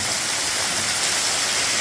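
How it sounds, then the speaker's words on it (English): Waterfalls gush inside a big cave on a hillbilly homestead, a dense, steady roar of rushing water with no pauses and no voices. "It is really gushing now."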